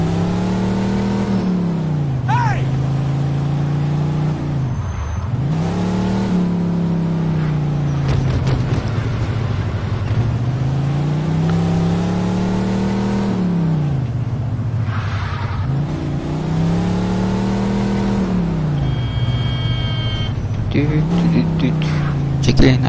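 A car engine in Mafia 2 drones and revs steadily throughout, its pitch rising and falling as the car accelerates and swerves through turns. Someone talks now and then over it.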